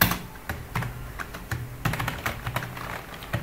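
Steady typing of C code on a computer keyboard, a run of close, distinct keystrokes at an even pace, some clicks landing harder than others, and no talking over them.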